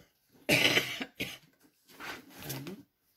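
A person coughs close by: one harsh burst, a short catch, then a longer raspy cough with a throaty clearing at the end.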